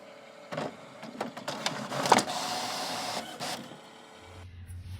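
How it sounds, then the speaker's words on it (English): A LaserJet printer feeds and prints a graphic onto a napkin, with clicking pickup sounds followed by a steady mechanical whir that stops, then a low hum, close and without speech. "So I'm going to go down and print off the graphic."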